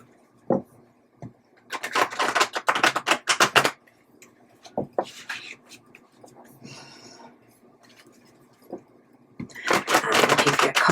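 Tarot cards being shuffled by hand in bursts of crisp riffling and slapping, several loud flurries separated by quieter pauses, close to the microphone.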